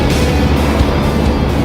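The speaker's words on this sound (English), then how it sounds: "The engine noise from this machine is fantastic." UAZ Pickup truck engine running, a loud, close, steady low rumble throughout with no pauses.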